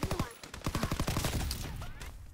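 A light machine gun in a WWII shooter fires rapid, close automatic rounds for over two seconds, the shots rattling in a fast, even stream beneath a little talk.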